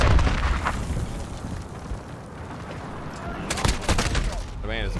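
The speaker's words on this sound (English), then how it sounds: "There's a flaming man sliding on the ground shooting." Gunfire from a flaming man in a video game crackles in a dense, loud barrage of shots and blasts over a rumbling background, with a voice speaking through it.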